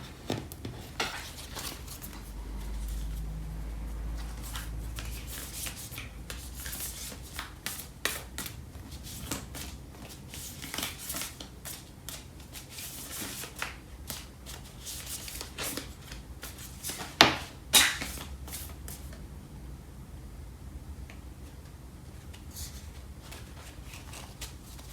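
A tarot oracle deck is shuffled by hand in a long run of soft rapid riffles and card slaps, close and fairly quiet with small pauses and no talking.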